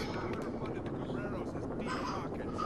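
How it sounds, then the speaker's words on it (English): A helicopter in the video game Rainbow Six Vegas 2 gives a continuous, fairly loud rotor drone and rumble with no break, while people talk over it. "Enter chopper. Hello, chopper."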